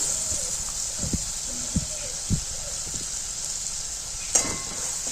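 A paste of mustard seeds, green chilli and poppy seeds hits hot oil in a pan for a fish curry, giving a steady bright sizzle throughout with a few soft clunks, under a woman's speech.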